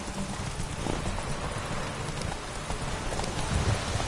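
Roach the horse from The Witcher galloping through rain, hoofbeats thudding in a quick rhythm beneath a dense, steady hiss of rainfall, close and loud.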